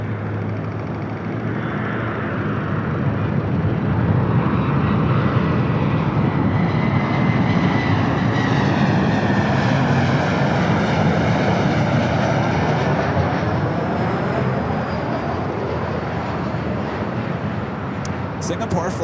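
Boeing 777-300ER airliner taxiing at LAX toward a north-side takeoff on runway 24 left, a steady loud broadband jet roar with a low engine rumble that holds throughout, with talk over it.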